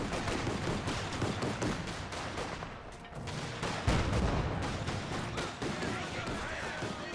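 Battle din in Company of Heroes 2 with a mortar half-track firing amid rapid gunfire and explosions, dense and continuous, with a voice talking over it.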